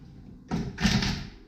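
Sliding doors between two rooms of a house are pushed shut, giving a short rumbling slide that ends in a louder knock, close by and alone.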